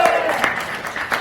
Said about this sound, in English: Round of applause for Crystal.